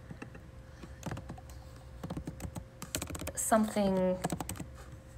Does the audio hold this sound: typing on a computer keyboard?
yes